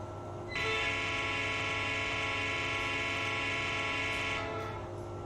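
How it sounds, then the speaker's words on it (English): An Amtrak Acela Express horn sounds in Train Simulator, one sustained multi-tone blast held steady for about four seconds over a low engine hum, then cut off. "Here's the horn."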